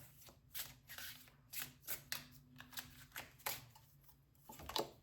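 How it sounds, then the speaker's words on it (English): Tarot cards being handled and laid out, soft papery flicks and slides in an uneven run of about a dozen taps, quiet and close with no voices. "So then we're going to take 6 of these tarot cards for our second layer."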